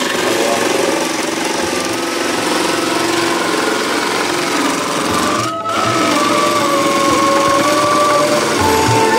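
An electric ice shaving machine grinds ice cubes for gola with a loud, steady, buzzing whir that continues throughout, briefly dipping for a moment near the middle before resuming.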